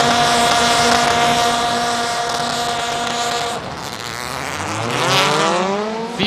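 Four-wheel-drive Pro-Am rallycross cars at Kymiring in 2025 hold loud, steady revs on the start line, then launch together with a surge of engine noise and climbing pitch as they pull away.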